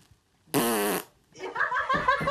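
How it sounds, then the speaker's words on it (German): A single loud, buzzing fart billed as one after a beer-soaked night rips for about half a second, then people laugh and talk in a mountain hut. "Furz nach einer bierseligen Nacht."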